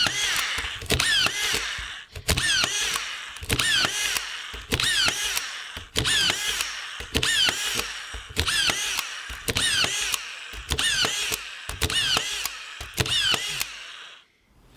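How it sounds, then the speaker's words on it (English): Makita DFS452 cordless auto-feed screw gun driving a run of screws, a dozen or so quick whirring bursts at a steady pace, close and loud, with clicks of the feed between them and no talk. "anytime I press it, it will drive just for that moment while I'm driving the screw"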